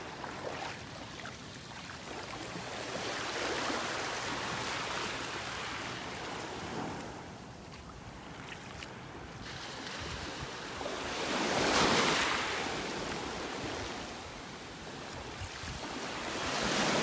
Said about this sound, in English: Few little waves rolling up on the shore here. Nice to listen to.